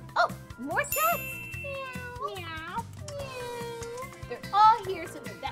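Cats at a veterinary clinic meow repeatedly, several rising and falling calls in quick succession, close and clear over soft chiming background tones.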